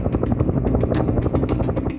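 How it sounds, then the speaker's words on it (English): A helicopter passes low overhead, its rotor chopping loud and close in a rapid, steady beat with a droning engine for the whole stretch. "We had one incident where a helicopter flew low,"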